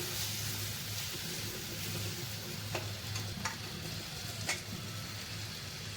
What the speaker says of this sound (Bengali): এইভাবে আস্তে আস্তে নেড়ে চেড়ে মশলাটাকে রেডি করে নিচ্ছি।